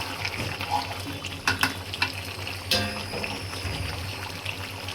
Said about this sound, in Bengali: এখন পরিমাণ মতো পানি দিয়ে দিই